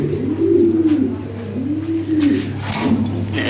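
Close, repeated rolling coos from Lahore Siraji pigeons, about four swelling calls in a row with faint background noise.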